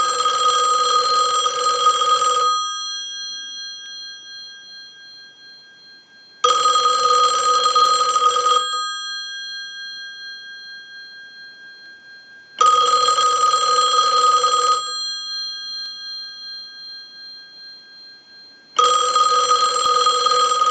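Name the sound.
Western Electric 2500 desk telephone bell ringing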